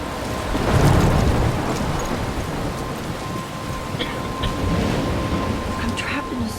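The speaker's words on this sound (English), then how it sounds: "I'm trapped in a storm?" A thunderstorm with heavy rain in the video game Life Is Strange, with a low thunder rumble near the start under a continuous wash of rainfall and wind, steady and fairly loud, with faint sounds over it toward the end.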